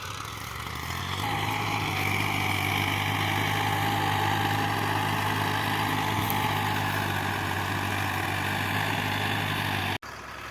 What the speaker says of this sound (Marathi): ट्रॅक्टर चालू झालाय